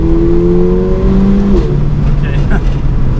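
Mercedes A45 AMG hot hatch accelerating hard in second gear in manual mode, engine drone rising in pitch under steady cabin road roar with a quick shift blip midway, and occupants talking over it.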